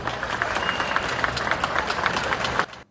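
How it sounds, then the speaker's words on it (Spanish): A crowd at a Dominican football league press event gives a short burst of dense clapping that stays even for a few seconds, then cuts off abruptly. "Eso merece un aplauso también."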